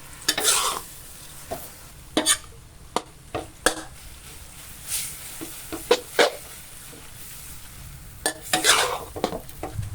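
Pink rice noodles being stir-fried with sauce in a pan, sharp spatula scrapes and metallic clanks in an irregular rhythm over a soft background sizzle, close and fairly loud, with no voices.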